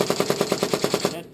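Rapid automatic gunfire from a video game, about ten evenly spaced shots in a steady burst lasting just over a second, loud and close before cutting off.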